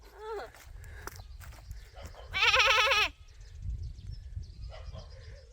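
Goats bleating on a farm where manure is being spread, two wavering cries, the second loud and drawn out, amid footsteps and rustling, with people talking nearby.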